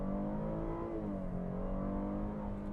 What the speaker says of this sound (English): we're going to just see what this engine will do